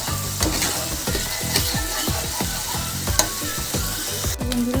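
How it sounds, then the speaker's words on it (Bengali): Onions sautéing in a pan over medium heat, a loud close sizzle broken by rapid rhythmic scraping and stirring strokes of a spoon against the pan, with a brief metallic clink near the end. "মিডিয়াম হিটে আমি পাঁচ থেকে ছ মিনিট আমি পেঁয়াজটাকে একটু কষিয়ে নেবো ভালো করে"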